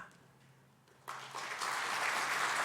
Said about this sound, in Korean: 여러분 큰 박수로 환영해 주시기를 바랍니다